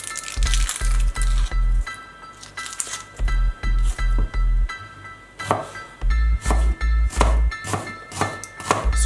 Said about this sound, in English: My wife will just cut up some onions to go in the Ackee and Saltfish.